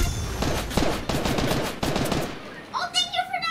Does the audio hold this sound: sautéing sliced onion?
no